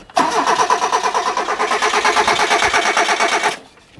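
A Hyundai car that is wet and won't start cranks over in one sustained burst of rapid, rhythmic starter-motor chugging, loud and close, without catching, then cuts off abruptly.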